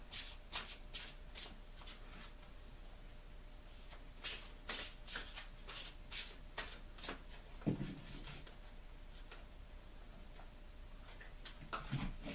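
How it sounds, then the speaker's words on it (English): A deck of angel tarot cards is shuffled by hand in repeated quick riffling bursts with short pauses between them, close and fairly quiet, with no talking. "Now I'm going to shuffle the cards my other way"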